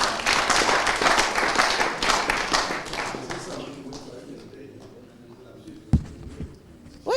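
Loud, dense applause from an audience at a finale event, with voices talking over it; the clapping gradually thins out and fades by the halfway point, leaving murmuring talk and a couple of sharp knocks.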